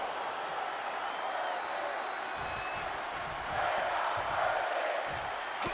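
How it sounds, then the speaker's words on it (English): Crowd at a live indoor wrestling show produces a steady roar with rhythmic chanting and scattered clapping, heard at a distance and fairly faint, swelling slightly toward the end. "Listen to the crowd. The crowd's chanting"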